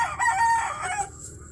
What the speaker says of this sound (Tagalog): Ang lalaking manok mga par.